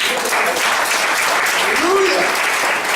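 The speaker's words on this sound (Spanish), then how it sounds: "Un aplauso al Señor." Congregation applauding in a Spanish-language church service, a steady, dense round of clapping with a voice briefly audible over it.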